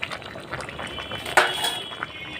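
Potatoes and fried potis boil in a pan on a gas stove, a soft continuous bubbling with a brief metallic clink from a utensil partway through.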